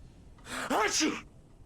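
A single sharp sneeze from a character in the video game Alan Wake Remastered is close and loud, with a quick intake of breath leading into the burst.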